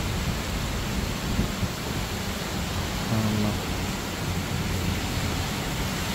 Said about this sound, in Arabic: هاي في اخر رعد وبرق